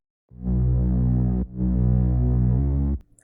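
Dubstep-style mid bass synth patch with no EQ applied, its sub frequencies left in, built in FL Studio: two sustained, loud, droning bass notes with a brief gap between them, heard alone with no talking.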